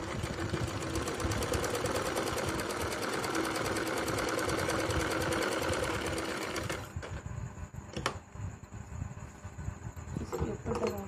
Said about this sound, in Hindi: इसके ऊपर दबा के पक्की सिलाई करेंगे